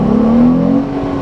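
A Morgan Roadster roughly 80 years old, fitted with a Mustang engine, pulls away on a road in Dubai, its engine note rising steadily and close, with no voices over it.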